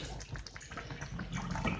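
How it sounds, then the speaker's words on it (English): Kombucha tea runs from the tap of a Kilner jar, a close, quiet trickle and splash of liquid that continues steadily throughout. "It has this little tap here, so I can easily just pull it forward"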